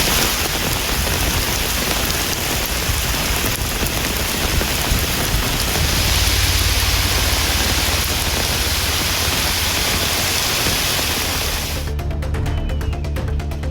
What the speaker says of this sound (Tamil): பகுதிகளில் அரை மணி நேரத்திற்கு மேலாக கனமழை பெய்ததால் வெப்பம் தணிந்து குளிர்ச்சியான சூழல் நிலவியது